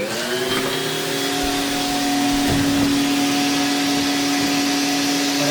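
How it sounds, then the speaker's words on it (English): A shop vacuum runs steadily throughout, pulling lint and dust out of a clothes dryer vent, with a constant whining motor drone and a steady roar of airflow at close range. "you can see vacuuming up all the dust"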